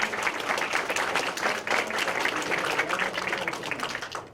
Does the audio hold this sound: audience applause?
yes